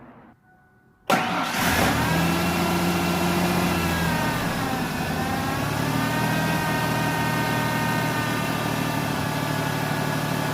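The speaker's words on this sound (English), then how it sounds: "the last step is to start the truck and make sure it runs and it doesn't misfire" A 1997 Ford Ranger with the 4.0 engine, fresh from a fuel filter replacement, cranks and starts abruptly after a second of near silence, then settles into a loud, steady, even-running idle close by.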